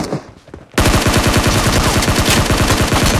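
Gunfire in the PUBG Mobile video game on a Samsung S10 Plus, opening with a short quiet stretch before a sustained, loud, close burst of rapid automatic shots.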